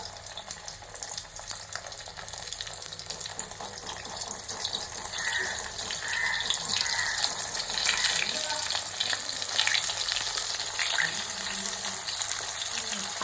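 Prawn vadas made with oats flour frying in hot oil, a steady close crackle and hiss throughout, with faint water-like noise in the background.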